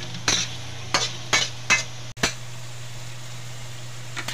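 Spoon stirring food in a cooking pan while making a home version of buridibud with bagoong: four or five quick scraping strokes near and clear, a sharp knock, then a faint steady hum.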